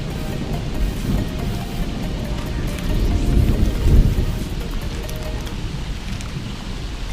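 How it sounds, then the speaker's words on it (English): Rain pours steadily at a campsite during a passing storm, with low thunder rumbling and swelling near the middle, a dense constant wash with no voices. "I think I'm on the outer edge of that storm"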